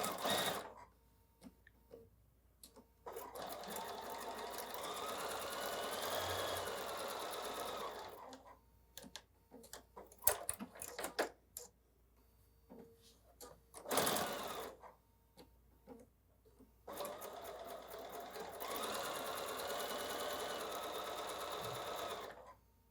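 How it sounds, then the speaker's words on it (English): A sewing machine stitches quilt block fabric along a marked line, running in long steady whirring bursts at close range with quiet pauses between runs and small clicks of handling. "I'm going to sew on the line this time this way and then this way"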